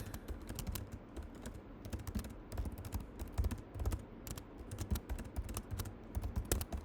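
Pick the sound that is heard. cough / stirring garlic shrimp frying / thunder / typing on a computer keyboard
typing on a computer keyboard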